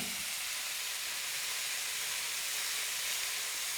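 A steady, loud hiss of escaping steam from a pressure cooker while cooking khara pongal, running unbroken for a few seconds.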